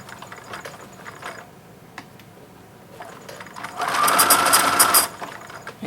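A sewing machine stitching rows of a T-shirt rag quilt, with brief whirring runs early on and then a longer, louder burst of rapid mechanical stitching before it stops.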